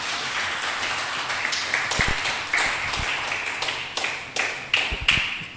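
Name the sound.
congregation applause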